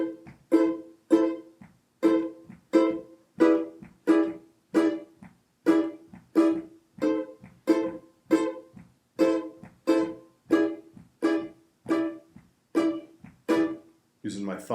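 A ukulele strummed in a steady, syncopated bossa nova pattern, each chord cut short, repeating evenly with no talking.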